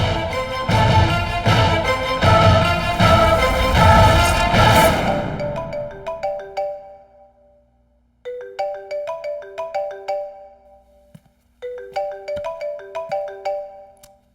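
A phone ringtone for an incoming call in a dubbed South Indian action film: bright melodic tones play loud over a dense backing, fade out, then repeat twice more as shorter, cleaner ringing phrases separated by brief silences.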